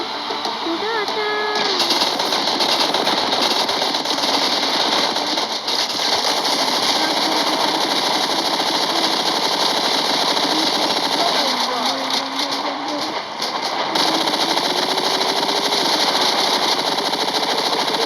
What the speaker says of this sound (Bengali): স্টার্ট হয়ে গেছে এই বোটটা চলে গেছে